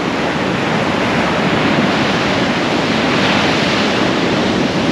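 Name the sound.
sea waves near the shore in Trivandrum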